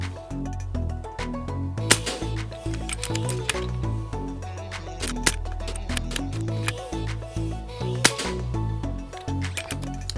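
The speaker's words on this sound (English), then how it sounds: "We're gonna shoot the whole magazine at 20 yards" A BRK Pathfinder compact PCP air rifle fires a full 10-shot magazine at a target 20 yards away: sharp, spaced cracks stand out over background music, with gaps of a few seconds between shots.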